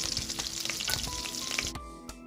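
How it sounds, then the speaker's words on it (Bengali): Butter melting in hot cooking oil in a pot for plain pulao gives a busy crackling sizzle with faint stirring that suddenly drops to a much quieter hiss near the end. "দিয়ে বাটারটা গলা পর্যন্ত একটু অপেক্ষা"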